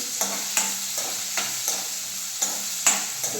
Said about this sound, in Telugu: పచ్చిమిర్చి ఆనియన్స్ ఉల్లిపాయలు వేసాము చూడండి ఫ్రెండ్స్ బాగా కలిపి